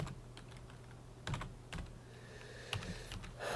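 Quiet clicks of typing on a computer keyboard while entering network device settings, a few scattered keystrokes and short bursts, close and soft with no talk.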